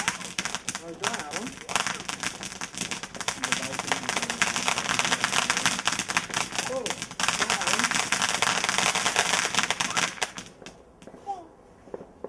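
Bonfire Night fireworks display in 2011, heard as dense, continuous crackling and popping that fills the air, with people chatting nearby before it fades near the end.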